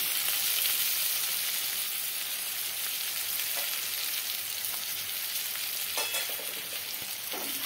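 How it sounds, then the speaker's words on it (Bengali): Eggs and potatoes sizzling in a spice masala, a steady close frying hiss with occasional stirring scrapes and soft clinks, no voices. "এখন আমি ডিম আর আলুগুলো এর মধ্যে দিয়ে দেব, কষিয়ে নেব মশলার মধ্যে দিয়ে।"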